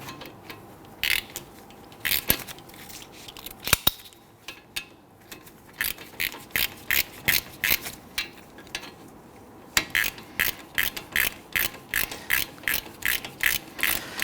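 Hand ratchet clicking steadily as brake caliper bolts are snugged down on a Ford Taurus during a front brake job, close and loud, in bursts of quick regular clicks with short pauses between strokes.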